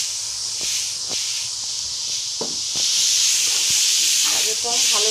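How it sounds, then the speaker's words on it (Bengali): Grated carrots fry in a pan for carrot halwa, giving a steady hiss and sizzle with occasional soft scrapes and stirs, close up, as a voice talks briefly over the cooking. "গাজরটা দিয়ে আমি 5-7 মিনিট ভালো করে ভেজে নেব।"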